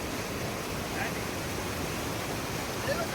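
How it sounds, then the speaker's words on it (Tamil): Rushing monsoon floodwater roars steadily and broadly at a seasonal waterfall on Karumalai Estate, Valparai, a constant dense wash of noise like a fast-flowing flood heard close by. "இப்ப இந்த இடத்துல ஒரு வெள்ளமா பாஞ்சுகிட்டு இருக்கு"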